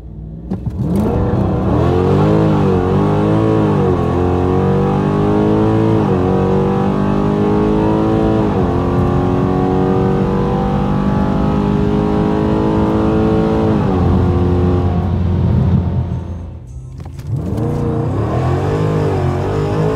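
A modded 5.7 Hemi car drag races a Mustang GT350 at ATCO Dragway. The engine roars loud and close, revving hard with rising pitch that climbs through several gear shifts before it briefly drops and picks up again.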